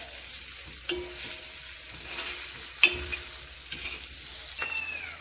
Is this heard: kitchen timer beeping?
no